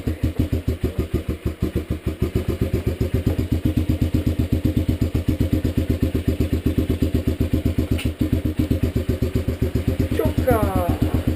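A 2012 Dirt Runner motorcycle engine runs steadily after a cold start, with a close, rapid, even putter and no talk.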